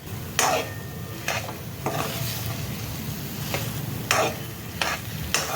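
Thick jaggery and barnyard millet rice mixture being stirred and fried in a pan: a continuous close sizzle under repeated scraping strokes of a spoon against the pan, at a steady, unhurried rhythm.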